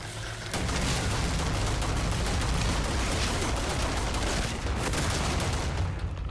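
Rapid gunfire rattles nearly nonstop in Starfield after a sudden start, a loud, dense stream of shots with a brief dip near the end and no talk over it.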